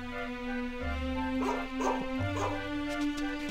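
A dog in Dragon Quest XI gives a few short barks and whimpering yips over steady game music, fairly close and moderately loud.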